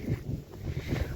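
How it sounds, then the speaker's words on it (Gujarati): Strong wind buffets the microphone outdoors on a farm field planted with cabbage, a continuous rough low rumble with gusty swells and no pause. "પવન હતું બહુ"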